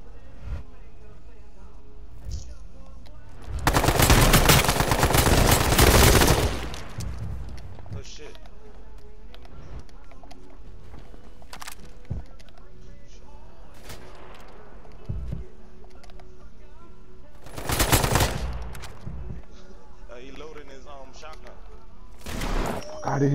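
Gunfire in the battle royale video game H1Z1: loud bursts of shooting in a couple of sustained volleys and a few isolated shots, heard under excited voices of players talking.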